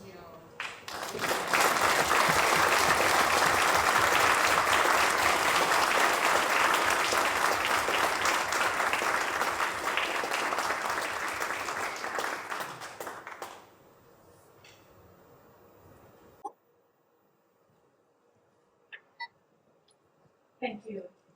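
An audience in the European Parliament applauds to welcome Taiwan's Vice President Hsiao. The clapping is loud, dense and sustained for about thirteen seconds, then fades to near silence broken by a few faint clicks.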